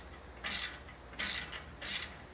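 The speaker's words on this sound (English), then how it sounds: "Not wanting to cooperate with the open end wrench" An open end wrench works polyurethane bolts on a break-in stand. Three short, quiet ratcheting clicks come at a steady pace, close by, separated by near silence.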